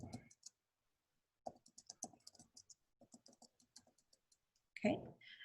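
Bursts of quick, light computer keyboard keystrokes tap out a message in short irregular runs separated by pauses, close and clear, with brief speech at the start and end.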